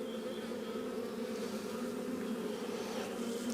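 Honey bees buzzing around hive frames during an inspection, a dense steady close hum with no pauses.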